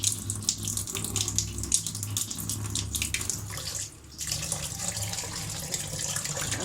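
Jackfruit seeds are washed under a running kitchen tap, the water gushing steadily and loudly into the sink with one short lull partway through.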